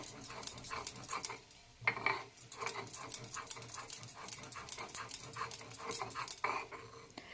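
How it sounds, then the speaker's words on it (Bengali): Half a spoon of radhuni seeds is ground fine on a stone slab for a Bengali parshe fish curry with broad beans, giving close, steady back-and-forth scraping strokes in a repeating rhythm. "আমি হাফ স্পুনের মতন রাঁধুনি আমি শিলে বেটে নিচ্ছি"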